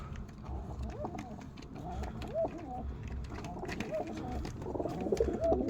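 A pigeon coos repeatedly inside its cage on a winter day, with soft, rolling calls in a slow rhythm, close by over a low background murmur and occasional faint clatter.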